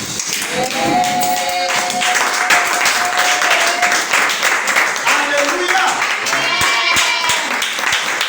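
Church congregation standing to applaud and clap for Jesus during a sermon, a dense, steady wash of hand claps with cheering voices and a shouted praise mixed in throughout.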